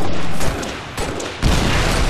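Gunfire in the video game Halo 4, during Slayer gameplay on a Forge map: dense, loud bursts of rapid shots run throughout, with a brief dip before the firing swells again.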